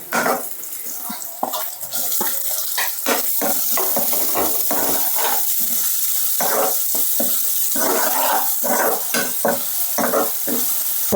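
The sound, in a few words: tomatoes sizzling as they fry in a pan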